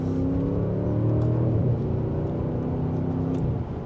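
A 2025 Audi S8 pulling in second gear in dynamic mode, its engine a loud, smooth, steady drone that rises gently through the acceleration and eases off near the end, with no voices.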